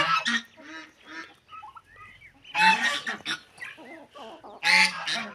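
Chickens call close by in a backyard flock, several loud clucking bursts separated by short pauses, with quieter cackles between them.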